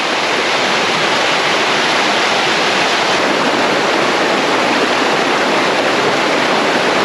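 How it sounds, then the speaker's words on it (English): A river rushes beside a hiking trail on a mountain loop track near Queenstown, New Zealand, a steady, dense roar of flowing water close by with no voices. "Past this rock is a nice river"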